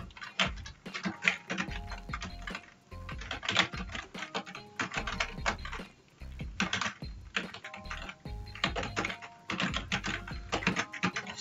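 Typing on a computer keyboard in a word-processor tutorial, steady rapid clicking in irregular bursts with brief pauses, close and clear with no voices.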